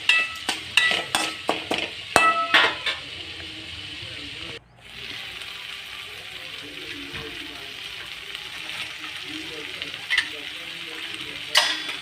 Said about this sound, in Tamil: வதக்கி அந்த பாவக்காய் எடுத்து அதை கொட்டி நல்லா கிளறி விடுங்க